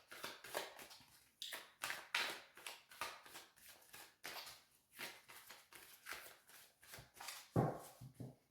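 Tarot cards being shuffled and drawn at home, a run of quick papery riffles and soft slaps in close bursts with brief pauses between, no talking.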